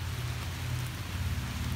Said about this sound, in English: It is really raining now.